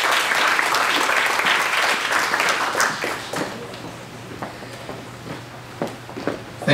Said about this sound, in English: Thank you for that clap.